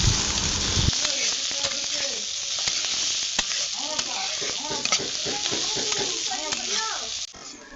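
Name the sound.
chopped onion, garlic and green chilli frying in a wok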